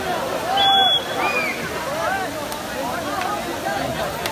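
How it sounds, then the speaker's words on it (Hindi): Water pours steadily at the Umbrella Waterfall, a broad outdoor rush and splash filling the background while voices and chatter sound over it. "ये है असल आबशार,"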